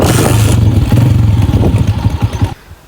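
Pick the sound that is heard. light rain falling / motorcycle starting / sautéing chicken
motorcycle starting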